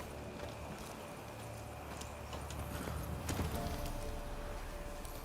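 Roach, Geralt's horse in The Witcher 3, clip-clops along with steady hoofbeats over a constant background hum, the footfalls continuing rhythmically and swelling slightly louder partway through.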